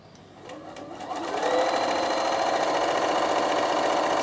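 A Bernina sewing machine stitching patchwork blocks starts up and settles into a steady, close, fast mechanical whir with a rhythmic needle chatter, running alone without talk.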